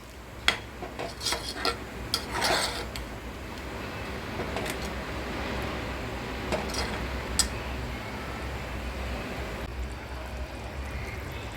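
Lentil curry (matki rassa bhaji) served from a pot into a bowl, with scattered light clinks of utensils against metal over a steady background hum, no speech.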